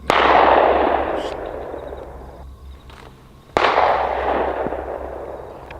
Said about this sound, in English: That's a pistol.